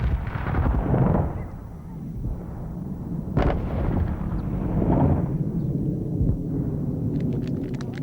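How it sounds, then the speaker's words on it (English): A sonic boom cracks overhead above a Lebanese mountain village on a school's opening morning, a sharp broadband crack near the middle standing out against a constant low rumble and noisy outdoor background. "But suddenly, a sonic boom cracks overhead on the morning that the new school opens."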